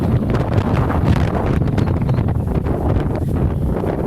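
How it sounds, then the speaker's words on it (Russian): Strong gusty wind blows against a tent beside the water, a continuous loud roar battering the microphone with flapping, rustling bursts and no voices. "интернет говорит, что 9 баллов ветер"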